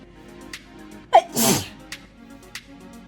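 A single loud sneeze bursts out about a second in, with a sharp inhale leading into a broad noisy blast, followed by faint rustling and small clicks in an otherwise quiet room.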